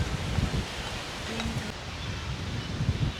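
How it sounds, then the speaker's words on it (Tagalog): Strong wind gusts rumble and rustle through leaves, buffeting the microphone in bursts near the start and end. "Grabe ang hangin oh."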